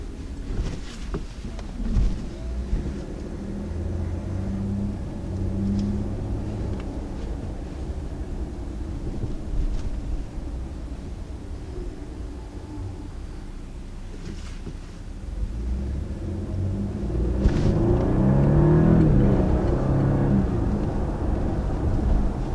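A 2019 Audi Q8 SUV drives on a road with a continuous low rumble of engine, tyres and wind, swelling louder toward the end as it gains speed.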